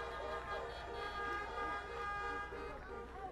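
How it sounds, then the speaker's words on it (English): A car horn honks in long sustained blasts at an outdoor Florida campaign rally in Miami, loud and steady with crowd noise beneath. "You got that horn honking good."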